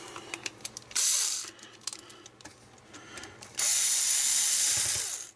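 Power screwdriver bit driving four small screws into a Sega Dreamcast controller port, with two sustained bursts of whirring ratchet-like buzzing between light clicks and handling taps, close and fairly loud, no talking.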